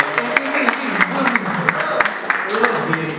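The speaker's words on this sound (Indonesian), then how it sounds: "Tepuk tangan buat Ricky." Congregation claps during a church service, a loud scattered burst of hand claps close by with audible individual slaps, accompanied by voices and murmuring in the room.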